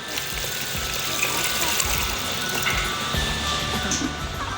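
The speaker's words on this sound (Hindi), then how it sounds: "1 लीटर पानी और अब इसमें 1 लीटर पानी ऐड करेंगे।" Water pours and gushes steadily into a pressure cooker, a continuous splashing rush close by with some low clatter underneath.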